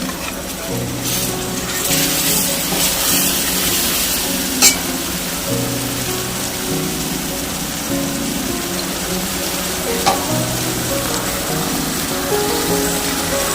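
Browned onion frying in a pan with ground masala paste, giving a steady, dense sizzle like light rain, with a few sharp clicks of a spoon against the pan.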